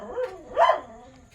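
A dog at an old ancestral house barks two sharp yaps, the second louder and longer, fairly close and against a quiet background.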